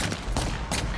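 Gunfire in a video game: a quick run of sharp, loud shots spaced a fraction of a second apart.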